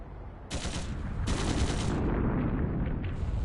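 Gunfire from the next district in the video game Trails Through Daybreak II: loud, dense bursts like rapid automatic fire and heavy blasts, rolling continuously without pauses.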